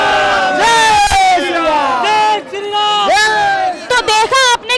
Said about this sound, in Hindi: कैसे श्रद्धालु जय श्री राम के लगातार नारे लगा रहे हैं